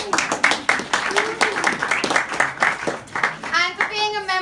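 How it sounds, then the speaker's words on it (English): Scattered hand clapping from an audience at a business club launch party, moderately loud with uneven bursts, mixed with voices and a child's chatter throughout. "give yourselves another round of applause for that"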